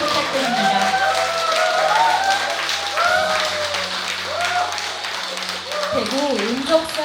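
Audience applause at a Buddhist book-launch dharma ceremony, a continuous wash of clapping heard under speech and the hum of a sound system.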